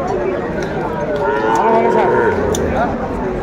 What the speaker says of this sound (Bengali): ষাঁড় বাচ্চা এগুলো।